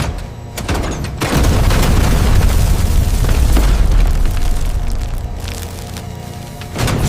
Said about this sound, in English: Magnetic trip testing verifies the breaker responds to short circuit current within 10 milliseconds.